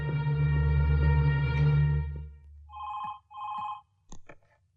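A telephone rings in two clear bursts of a trilling electronic tone, close and fairly loud, after a droning musical sound fades; a short chirpy ring follows.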